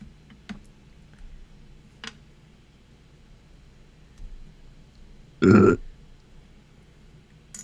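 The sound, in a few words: burping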